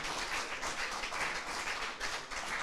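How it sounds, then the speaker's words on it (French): Studio audience applauding the contestants on a French television quiz show, a steady, dense wash of clapping holding at an even level throughout, with no voices on top. "Merci d'applaudir nos candidats avant cette dernière rubrique"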